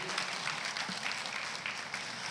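A Catholic church congregation applauds steadily at moderate volume, a dense wash of hand claps filling the space without any voices over it.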